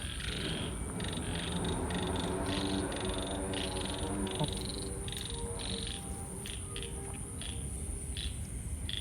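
Frogs calling after a night of heavy rain, a dense steady outdoor chorus of croaks layered with insect trilling, continuous and fairly loud throughout with no talk.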